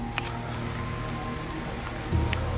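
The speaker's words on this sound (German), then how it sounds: "Jetzt nach dem Unwetter, es regnet doch oder es regnet schon wieder." Rain falling after a storm at Edersee near a small western-themed town in Herzhausen, a steady close patter with scattered louder drops and a low rumble late on, with no talking.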